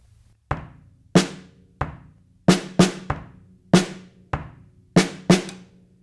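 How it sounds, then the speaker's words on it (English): Bass drum and snare drum on a drum set playing a rock beat with an extra snare hit on the and of beat 4, giving paired hits within a steady, loud pattern of about ten close strokes. "So I'm going to play the bass drum and the snare drum and let you hear what it sounds like."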